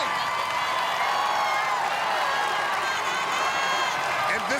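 A standing American Ninja Warrior crowd at the season finale cheers and claps in a continuous, loud roar, with a commentator talking over it.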